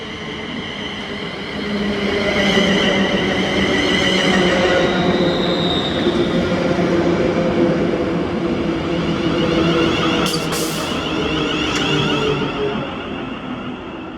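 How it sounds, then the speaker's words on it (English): A ScotRail passenger train, the service to Glasgow Central from Ardrossan Harbour, moves through Paisley Gilmour Street station. Rumble swells in after two seconds, with sustained wheel noise, brief squeals near the end and no talk. "Then this is 1F66, the 1409 ScotRail service to Glasgow Central from Ardrossan Harbour."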